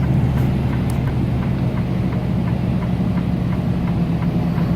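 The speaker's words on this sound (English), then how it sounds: "I'm actually going to do a downshift and demonstrate that we'll lose the road speed limit here in a second" Freightliner truck climbing a mountain grade during a downshift, its diesel engine a steady low, loud drone heard from inside the cab, with no speech.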